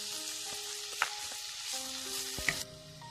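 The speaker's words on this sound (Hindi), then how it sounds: "अब मैं इसमें एकदम बारीक कटी हुई गाजर मिक्स कर रही हूँ और साथ में हम मिक्स करेंगे बारीक कटी हुई पत्ता गोभी" Finely chopped carrots and cabbage are stirred into a spiced moong dal khichdi in a pan, giving a soft, steady sizzle broken by two sharp spoon knocks against the vessel, with faint tones in the background.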